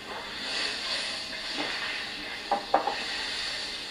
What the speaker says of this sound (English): Butter in a hot pan. That's about 3 tablespoons of hot butter.